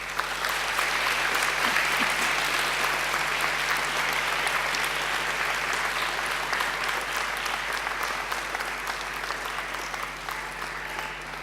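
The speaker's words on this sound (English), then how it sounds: "And now I invite you to give them a mighty round of applause." A large graduation ceremony crowd applauds steadily for over ten seconds, a dense, even roar of clapping in a big hall with a constant low hum underneath.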